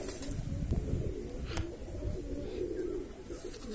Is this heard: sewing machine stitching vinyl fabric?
no